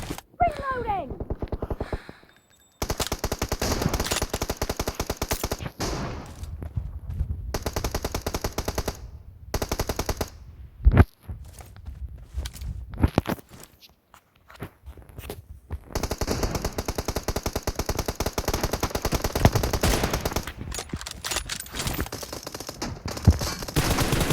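Dense bursts of automatic rifle fire from the mobile shooter PUBG Mobile rattle in rapid strings broken by short gaps, loud and close, mixed with game effects and voices talking over the action.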